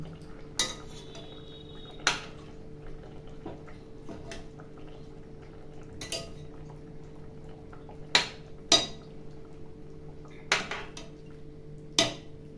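Kanla fish pieces turned over in a frying pan for a low-oil curry, sparse sharp clinks of a utensil against the pan at irregular intervals over a quiet bubbling background, no voices.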